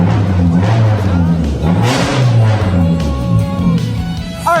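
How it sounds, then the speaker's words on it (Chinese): Engine of a sub-one-tonne old Shanghai rally car with a 2.0-litre motor, idling loud and close with rising revs as it is started and run, with talk over it throughout. "来试一下踩住离合、空挡，打下车啊"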